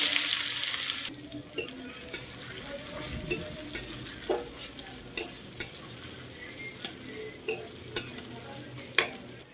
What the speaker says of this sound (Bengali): দিয়ে দিলাম ফোড়নে জিরে আর দেব পেঁয়াজ